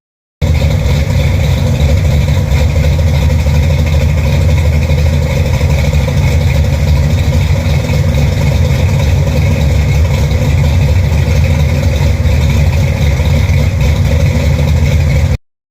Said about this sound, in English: I'm going to button this up, fire it up, and do a little idle video